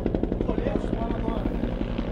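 A helicopter flies overhead at close range, its rotor thumping in a loud, fast, even rhythm throughout.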